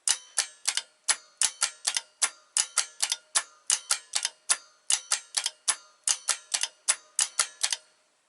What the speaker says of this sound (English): I'll run this through the cycle several times so you can, and it's slowed down